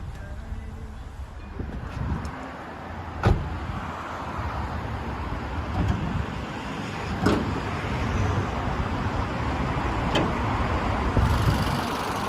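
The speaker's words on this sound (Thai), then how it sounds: "ผมขออนุญาตสตาร์ทเครื่องด้วยเลยนะครับผม จะได้ฟังเสียงเครื่องนะครับว่าเพราะขนาดไหน" A 2012 Nissan March with a 1.2 ECO petrol engine idles steadily after starting, a low even hum with a few faint clicks over it.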